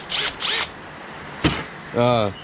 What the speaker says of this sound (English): my soft wire brush wheel on my Milwaukee drill